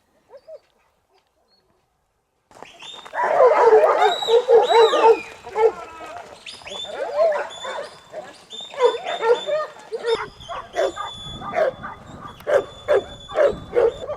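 Sheep dogs bark while herding a mob of sheep along a rural road. The barks come in repeated bursts at close to middle distance, mixed with other animal calls, and the sound keeps up throughout.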